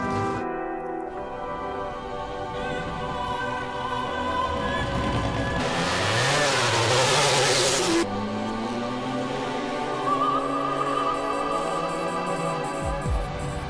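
Race cars at Fuji Speedway run a finale parade lap with lights on, on a track drying after rain. Engines drone and rise through gears, with a loud burst of broadband noise partway through as machines pass nearby.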